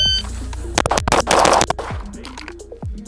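Rapid string of gunshots from a CNC Gunworks PIB Akira pistol, one of only 25 made, emptied through its final magazine at a range, loud close cracks in quick bursts with a short pause, then a last shot.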